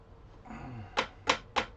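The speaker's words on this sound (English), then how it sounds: "Get some names typed in." Three sharp keystroke taps on a keyboard land in a quick, evenly spaced run near the end, close and fairly loud over a quiet room hum.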